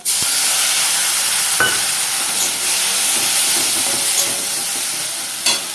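A turmeric and chili paste thinned with water is poured into snails frying in a pan. It raises a loud, continuous hissing sizzle throughout, broken by a few sharp clicks of a spoon against the pan. No one speaks.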